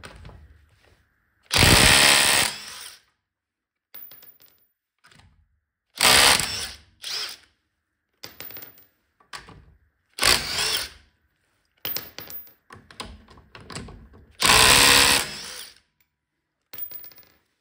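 A Parkside Performance PDSSAP 20-Li cordless impact wrench loosens the bolts on a car wheel in loud rattling bursts of hammering, four main runs separated by quieter handling clicks and silence, close up with no talk.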